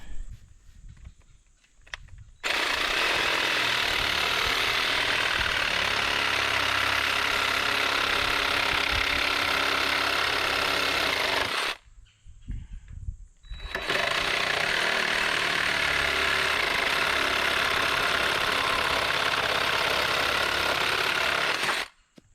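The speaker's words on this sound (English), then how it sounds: "I'm gonna show you a little bit of the sawing here." Steady, loud broadband sawing noise running continuously for long stretches, broken by a short pause near the middle before resuming.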